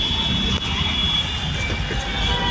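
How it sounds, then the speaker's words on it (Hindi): Steady low rumble of a Lucknow Metro train rolling into Gomti Nagar station, with a continuous high whine on top and no voices. "ये आ गई मेट्रो।"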